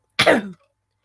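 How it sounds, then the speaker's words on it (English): One short, rough throat-clearing cough, close and abrupt, lasting under half a second before silence. "I'm going to start coughing because I'm talking."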